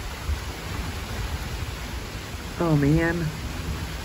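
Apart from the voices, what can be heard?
rain starting to fall, with thunder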